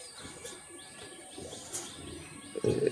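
Naphta pigeons, a fancy breed of pigeon offered for sale, give short coos and chirps at close range, with a louder burst of calls near the end and no talking.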